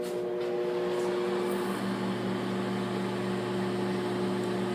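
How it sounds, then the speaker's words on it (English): Microwave oven running while softening butter for banana bread in a home kitchen, a steady close hum with constant tones and no talk. "put it in the microwave"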